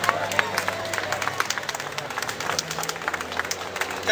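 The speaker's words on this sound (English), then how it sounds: "Thanks for that small amount of applause." Sparse, modest applause ripples through a small crowd at an outdoor rally, scattered claps of moderate loudness with light background murmuring.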